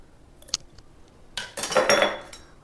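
A spoon scraping and clinking against a pot while stirring a mango and chana dal curry, a few light taps followed by a longer, louder stretch of stirring near the end.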